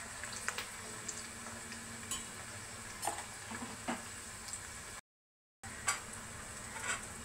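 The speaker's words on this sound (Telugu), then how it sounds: "ఇప్పుడు 1 స్పూన్ అల్లం వెల్లుల్లి పేస్ట్ వేస్తున్నాను" Ginger garlic paste frying in a pan with chopped onion and green chili, a soft, steady sizzle with intermittent stirring clicks and scrapes, briefly cutting to silence before resuming.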